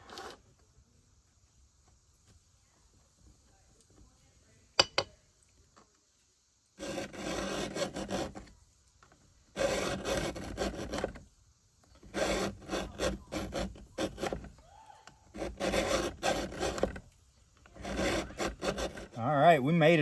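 A chainsaw chain is sharpened with a hand file in repeated rasping bursts of strokes, separated by short pauses, close and clear.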